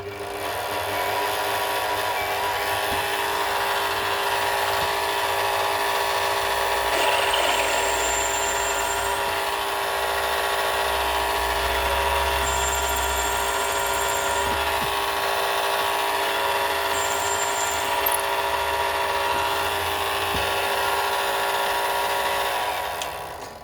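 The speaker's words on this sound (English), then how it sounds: "All the holes are now drilled." An electric drill bores holes in a lathe face plate in a workshop, a continuous steady motor whine with grinding cutting noise running throughout, close and fairly loud, with no talking.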